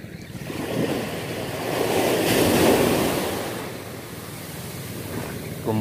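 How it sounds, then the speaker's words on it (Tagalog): Ocean surf swells and crashes nearby, a broad rushing wash that builds, peaks and recedes, with wind buffeting the microphone. "Medyo lumiliit na yung alon guys, no? Ayun na kasi talagang humahampas."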